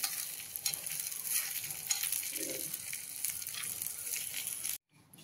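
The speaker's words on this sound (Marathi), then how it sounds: "आता आपण असं हलवून घेऊया." Dried red chillies frying in oil for a dal tadka, a loud steady crackling sizzle with scraping stirring strokes, close up, cutting off abruptly near the end, no talking.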